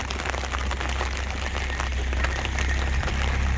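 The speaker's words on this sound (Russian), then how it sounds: "Слышишь, как стучат капли дождя об зонтик?" Dense, steady patter of rain tapping on a taut umbrella close by, a continuous hiss of drops with scattered sharper hits, outdoors in Rhodes town in winter.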